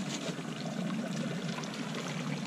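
Very hot water bubbles and rushes in a natural hot spring in the Valle de Guadalupe, a dense, steady, close hiss and gurgle with no breaks.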